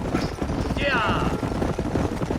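Horses' hooves clip-clop steadily through a Red Dead Redemption scene, a rhythmic trotting patter running the whole way under game noise, with a brief whistling tone partway through.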